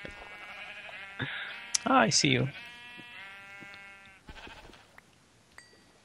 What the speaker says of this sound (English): I have to kill more sheep